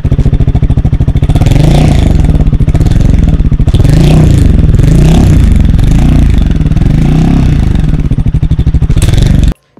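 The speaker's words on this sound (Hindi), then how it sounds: "मैं आपको एक साउंड सुनाता हूँ कैटेलिक कन्वर्टर के" A Royal Enfield Himalayan 450 single-cylinder motorcycle with its stock catalytic converter fitted revs hard and close, a loud, rapid pulsing exhaust note rising and falling through repeated throttle blips before cutting off abruptly.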